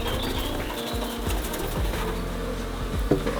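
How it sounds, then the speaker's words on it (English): A dense, steady hum of many honeybees buzzing close by as they are shaken into a new hive, with a few soft thuds and rustles. "I can just shake the rest of the bees in here."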